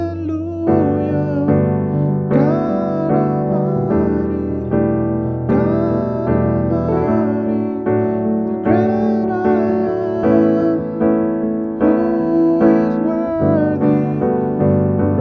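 Rich major 9 and minor 11 piano chords move through a smooth gospel jazz progression, each chord ringing out in a steady, unhurried rhythm with no voices.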